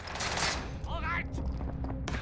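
Short burst of Mac-10 submachine gun fire in a video game, a loud rapid volley at the start, then a few scattered shots over a busy game soundscape.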